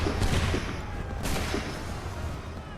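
Musket volleys crack out in Assassin's Creed III, a few distant, muffled bursts of massed fire rolling over a dull background rumble, with one sharper volley near the middle.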